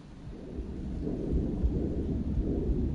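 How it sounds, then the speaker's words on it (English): Heavy rain and rumbling thunder outside, a steady low roar with swelling rolls, fairly faint and heard from indoors, with no talking. "it's raining here quite a lot"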